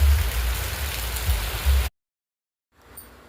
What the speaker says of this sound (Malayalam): ഇന്നിപ്പോൾ എന്തായാലും വൈകുന്നേരം നല്ല മഴയാണ് കേട്ടോ